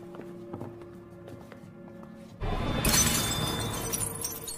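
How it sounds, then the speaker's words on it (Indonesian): In a film scene, a billiard ball hits a drinking glass full of temulawak herbal drink and shatters it. A sudden loud crash and bright splintering burst cut through a quieter room ambience with faint tapping. "Nathan mengarahkan bola tersebut ke arah gelas Stanley yang membuat gelasnya pecah dan temulawaknya tumpah"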